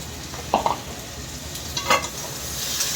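Tomatoes frying in a pan with spices while being stirred: a steady low sizzle broken by a few short scraping stirs of a utensil, close and moderately loud.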